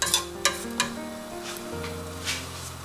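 Pumpkin simmering in sweet coconut milk is stirred gently in a pot, giving soft scraping strokes and a few sharper clinks over a steady low bubbling hum, close and moderately loud with no talk.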